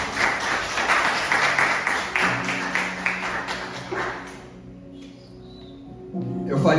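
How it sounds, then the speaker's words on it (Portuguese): Church congregation clapping during a Pentecostal-style evening sermon, a dense broad patter of hands filling the first four seconds over low organ-like tones, then thinning out before rising again at the end. "Dê mais um aplauso para o Senhor."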